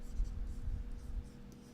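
Pencil sketching on paper, heard as a close, steady scratchy rasp of graphite strokes with slight surges in pressure, continuing alone without any talking.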